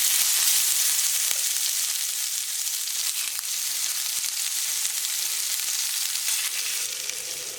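Beef stew meat browns in a hot pan, giving a steady, dense sizzle and crackle with occasional sharper pops, close and continuous throughout.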